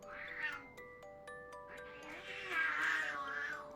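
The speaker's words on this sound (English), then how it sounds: "My cats are fighting." Two house cats fighting, with drawn-out yowling caterwauls and tonal meows rising and falling in overlapping bursts, heard from a short distance indoors at moderate volume.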